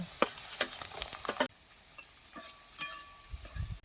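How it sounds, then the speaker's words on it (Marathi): Chopped onion and tomato frying in oil for a cabbage curry, a close sizzle with rapid spatula scrapes and clatters at first, then a quieter steady frying hiss with occasional stirs. "आता कांदा भाजत आलाय त्यात टमाट घालतो"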